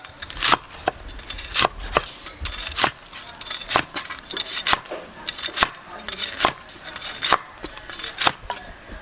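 A knife slices through fried pork with steady, evenly spaced clacks against a cutting board, close and crisp, about one cut per second.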